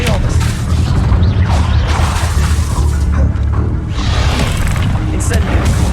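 Expelliarmus disarming spells cast during Hogwarts Legacy gameplay, a dense run of magical bursts, booms and mechanical clatter layered with shouted incantations, loud and continuous with no pauses.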